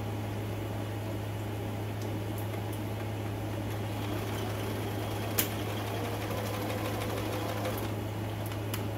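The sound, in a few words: sewing machine sewing a dress dart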